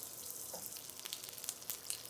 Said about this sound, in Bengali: তো ফ্রাই প্যানটা গরম করে এখন এখানে বাটার দিয়ে দিলাম।